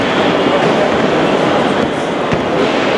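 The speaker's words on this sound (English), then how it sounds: "Passengers are now starting to board this service for the very last time on board this classic HST" A GWR Class 43 HST train at London Paddington station: a loud, steady rumble fills the platform without letup, with no voices over it.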